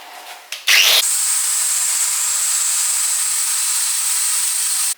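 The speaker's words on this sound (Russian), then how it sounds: "буду чистить болгаркой." An angle grinder spins up with a brief rising whine, then runs loud and steady with a high-pitched, sustained grinding whir, cleaning a rear steering rack of a Mitsubishi 3000GT.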